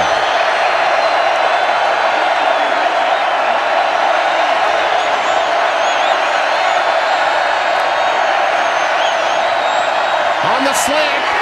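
A college football crowd at a Missouri versus West Virginia game roars in a steady, dense wash of cheering that fills the whole stretch, with a play-by-play announcer talking over it.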